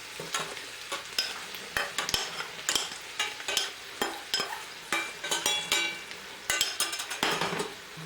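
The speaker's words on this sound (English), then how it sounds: "I'm going to add in my mushrooms with all the butter" Mushrooms and butter sizzle in a hot pan, with steady frying hiss broken by frequent scraping and stirring clatter from a utensil against the pan, close and fairly loud with no talking.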